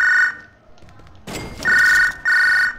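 A phone in a prison video game rings with a loud electronic trill, three bursts separated by short pauses, with thumping movement noises in between.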